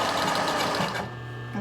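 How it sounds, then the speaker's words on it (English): A sewing machine runs fast, stitching the center seam of a boyshort, with a close, rapid mechanical whir that stops abruptly partway through, leaving a faint hum. "start right before that center seam and then start sewing away"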